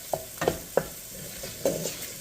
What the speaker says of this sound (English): And you want to just stir it around and give it a minute or two till it's softened